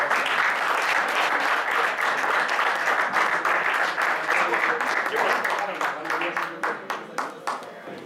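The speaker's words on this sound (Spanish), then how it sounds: "Por favor, les pediría un fuerte aplauso" An audience at a ceremony where a student center presents a gift gives loud, sustained applause: dense clapping from many hands that thins out into scattered individual claps toward the end.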